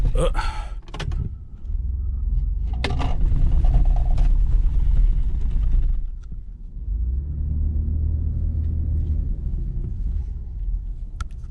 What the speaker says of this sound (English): So I thought this stupid truck was 4-wheel drive